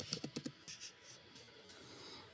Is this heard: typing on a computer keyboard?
yes